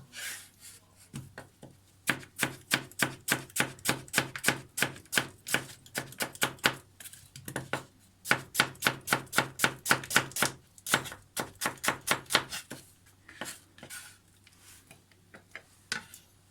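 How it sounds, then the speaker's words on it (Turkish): Two onions are sliced with a knife on a board into thin rings, fast regular chops in quick runs with short pauses, crisp and close. "Soğanlarımı doğruyorum şöyle piyazlık şekilde."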